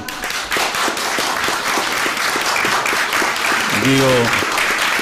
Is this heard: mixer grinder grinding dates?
no